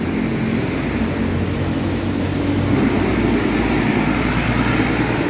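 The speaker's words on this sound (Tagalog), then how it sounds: "parating na yung train guys" A steady, loud rumble of an MRT train arriving at a station, low and continuous with a broad hiss over it, holding even throughout.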